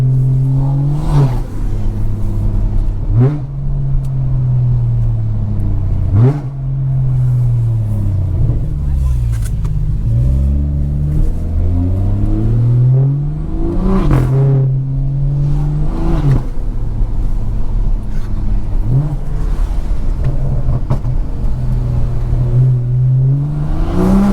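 A BMW 340i (B58 engine) with an aftermarket sports exhaust revs loudly with rising and falling pitch, blipping through repeated downshifts in a steady throaty drone.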